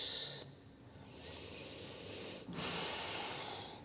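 Steady breathing during a vinyasa yoga flow, with soft airy inhales and exhales that come close and quiet, plus a brief breathy catch near the middle. No one talks.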